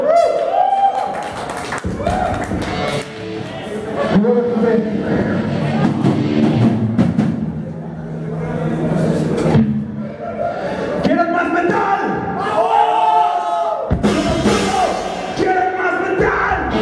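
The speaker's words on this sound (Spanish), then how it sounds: "por favor, un aplauso para Marco, que hoy es su cumpleaños" Concert crowd at a metal festival roars with cheers, yells and applause filling the whole stretch, loud and dense with shouting voices throughout and a brief dip in the middle.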